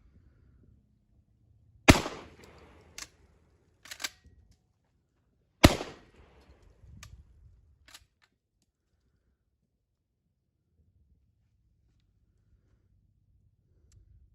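A Beretta 1301 semi-automatic shotgun at an outdoor range gives two sharp, loud reports about four seconds apart, each followed by clattering action and handling clicks, then quiet.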